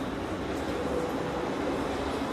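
A tram rolling along a city street in Belgrade, a steady broadband rumble of wheels on rails holding at an even level through the whole stretch without any talk.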